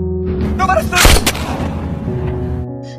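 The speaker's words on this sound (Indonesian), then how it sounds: "Lesanto pun memanfaatkan kesempatan ini untuk merebut pistol sang pembunuh dan langsung menembaknya hingga mati" A single loud gunshot from a film scene, one sharp blast with a short rumbling tail, set against a low sustained musical drone with no voices over it.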